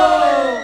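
A crowd at a Maa Sheetla jas jhanki procession in Khopli village, Durg, raises a loud devotional jaykara to Lord Shankar, a single brief, full-throated shout of many voices together.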